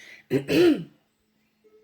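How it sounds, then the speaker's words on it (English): One person clears their throat in a couple of quick, rough bursts, close up, followed by near silence. "So let me clear my throat"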